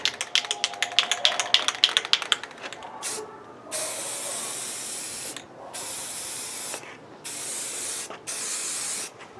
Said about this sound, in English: let's give this a coat of primer